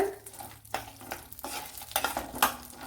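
Roasted gram (pottukadala) being fried for a hotel-style chutney, with steady stirring scrapes and a soft sizzle running throughout, close by and moderately loud, with no talking.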